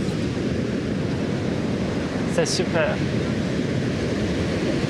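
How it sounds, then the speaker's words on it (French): Large ocean waves crash on a beach in Brazil in a constant, loud roar of surf that fills the clip, while a voice speaks briefly near the middle. "Mais oui, les vagues sont énormes."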